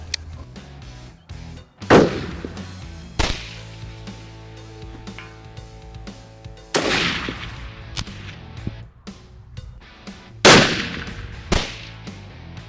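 A McWhorter 6.5 PRC rifle fired at a 500-yard target: three loud, sharp cracks with a rolling outdoor echo, set apart by a few seconds of low background rumble and small knocks.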